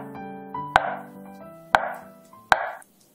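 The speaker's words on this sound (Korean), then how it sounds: "두부는 반으로 쑥 자르시고요" A knife cuts through tofu on a cutting board for a pork and tofu stew, three crisp, evenly spaced knocks on the board, close and clear with no voices.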